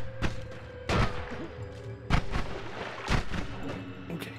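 Sniper gunfire in the video game Noita: four heavy, booming shots at roughly one-second intervals over a low droning backdrop, each shot a sharp loud crack with a rumbling tail.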